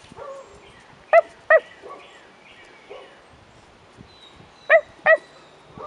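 Rottweiler puppies about four and a half weeks old give two pairs of sharp, close barks, separated by soft whimpers and quiet yips.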